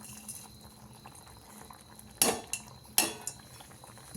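Soft bubbling of a potato curry with crushed peanuts boiling in a pot, interrupted by two sharp metallic clinks of a utensil against the pot.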